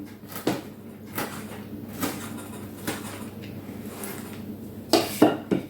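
A kitchen knife slices through a couple of fresh dill sprigs on a cutting surface, giving a few irregular sharp taps and chops close up, with no talking.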